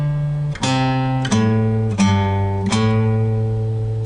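Electric guitar plays a theme riff alone: distinct plucked notes in a slow, sliding, stepwise phrase, each note ringing and sustained, close and clear.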